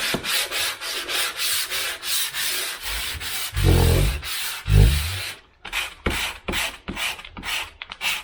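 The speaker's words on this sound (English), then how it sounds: "I will do a bit of sanding to smoothen edges out" Sandpaper rubbed by hand over dried filler on a repaired drywall patch: repeated rhythmic back-and-forth scratchy strokes, close and fairly loud, with a couple of heavier thumping passes midway and brief pauses.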